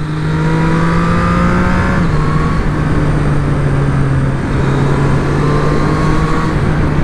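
A 2024 Triumph Street Triple 765RS motorcycle engine runs loud and close, a steady droning note that dips slightly in pitch partway through, alone with no voices.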